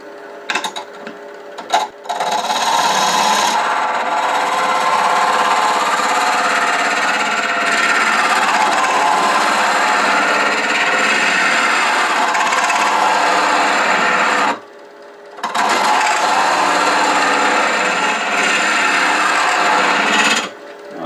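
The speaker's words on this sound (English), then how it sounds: "going to start hollowing it with a 1/2-inch spindle gouge to get behind here and clean this out a little bit" Woodturning lathe hollowing the inside of a rook chess piece box with a 1/2-inch spindle gouge, a steady close scraping rasp of tool on spinning wood that runs continuously, with two brief pauses where the cutting stops.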